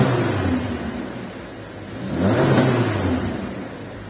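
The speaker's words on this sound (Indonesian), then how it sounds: "memang suara mesin boxer itu khas banget ya" A Subaru XV AWD SUV's boxer engine revs, easing off before climbing to a strong, rumbling peak and settling back, heard up close with no talk.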